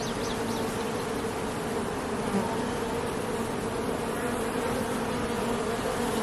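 Honey bees buzz steadily and densely around beehive frames lifted from a hive with capped honey, a continuous close swarm drone filling the whole stretch with no talking.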